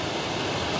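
A waterfall on the Pipiwai Trail pours steadily, a dense, even broadband rush with no breaks, loud and close, with no voices.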